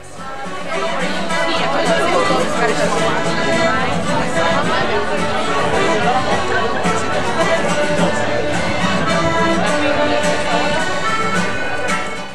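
Dense crowd chatter fills a busy street market on Portobello Road in London, a steady, close babble of many overlapping voices with footsteps and bustle, loud and continuous throughout.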